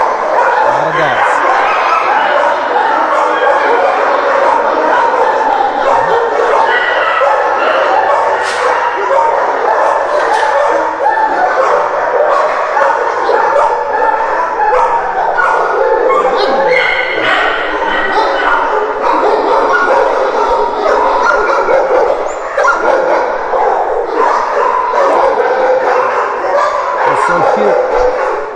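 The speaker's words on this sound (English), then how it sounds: "So we're inside their area where they house the dogs." Many dogs bark, yip and whimper nonstop inside a crowded animal shelter kennel area, loud and echoing, with people talking over the din throughout.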